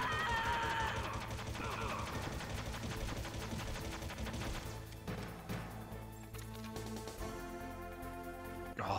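Gunfire rattles through a Metal Gear Solid boss fight, rapid dense shots layered over game music and mechanical clatter, loud and continuous before easing into sparser hits.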